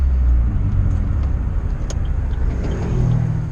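Interior of a car on the road after new shocks were fitted, a steady loud engine and road rumble that eases slightly during braking, with no talk.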